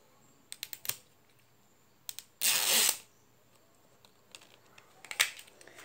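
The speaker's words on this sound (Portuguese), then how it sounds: "Eu vou abrir aqui o primeiro zíper." A zipper on a Tell All Surprise toy package is pulled open in one loud, rasping half-second burst, with scattered clicks and crinkles of handling before and after.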